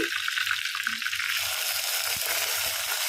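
Onion stalks are dropped into frying red lentil dal in a clay pot, bringing an immediate burst of loud hissing sizzle that continues close up, with a low voice murmuring underneath.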